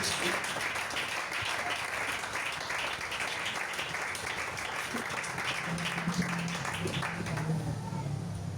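A church congregation applauding in praise, a dense, steady roar of many clapping hands that fills the room for several seconds, with faint voices underneath toward the end.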